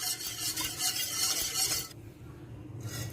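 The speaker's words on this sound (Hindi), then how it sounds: "अब मैंने अच्छे से मिक्स कर लिया।" A spoon stirs milk powder into cold milk in a pot, a steady close scraping swirl that stops abruptly partway, leaving a quieter background hum.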